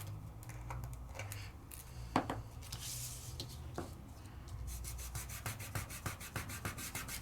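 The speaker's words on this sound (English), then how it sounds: "Okay, so let's polish that one and move on." Metallic flakes are burnished onto card by hand for a Christmas craft. Steady, soft rubbing and brushing carries on for several seconds, close and quiet, with a few faster scrubbing strokes near the end.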